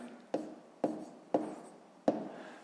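Pen or chalk writing out a maths sum, four distinct tapping strokes at an uneven pace, quiet and close, with no voices.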